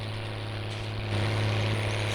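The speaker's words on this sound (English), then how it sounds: "Wanted to show you this tractor working before we went to" A tractor engine working in the video game Farming Simulator 19, a steady low diesel drone with a constant hum that swells slightly louder partway through, with no one talking over it.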